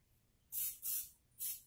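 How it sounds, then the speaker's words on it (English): Three quick bursts of Pam cooking spray hit a moon cake mold, each a loud, bright hiss lasting about a quarter second, with short gaps between them and no talking. "I spray the mold every two cookies."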